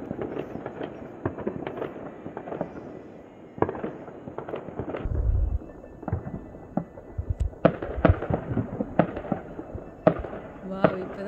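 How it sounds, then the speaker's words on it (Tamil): Distant New Year fireworks pop and crackle in scattered bursts at an outdoor spot in the UK, with one heavier low boom midway, the reports arriving irregularly and fairly far off, with some talk and background noise in between. "எங்கேயோ வெடிக்கிறாங்க, எங்கேன்னு தெரில."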